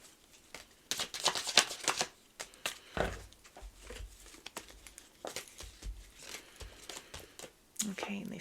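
A deck of oracle message cards being shuffled, with repeated crisp riffles and soft slaps close by, and a voice talking over parts of it.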